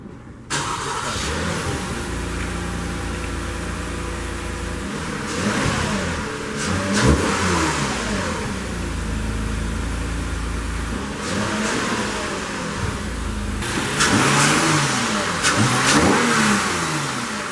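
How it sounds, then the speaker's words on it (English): A 2018 Toyota Camry sedan with quad exhaust pipes starts up and revs repeatedly, several loud rising engine bursts over a steady idle, heard from outside the car with no talking. "I think it really sounds good with the quad pipes, so let's take a listen to that as well."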